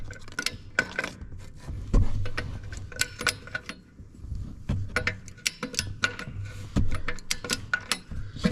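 Ratcheting clicks from a torque wrench fitted with a universal joint as transmission bolts are tightened while bolting the transmission to the engine block, irregular metallic clicks and clunks close up, no talk.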